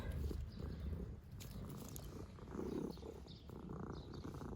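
A cat purrs steadily up close, a soft continuous rumbling with a gentle rhythmic pulse and no voices.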